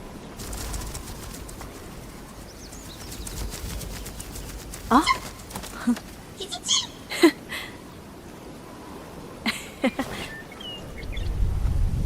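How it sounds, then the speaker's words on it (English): A handful of short, bright bird chirps in the game Where Winds Meet, clustered in the middle of the clip over a low ambient hum and quiet background sound. "little bird fly free"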